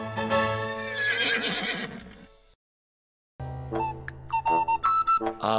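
A horse neighs in a children's cartoon: a loud, bright whinny, then a brief silence, then more whinnying with a quick rising and falling pitch, close and clear with no speech.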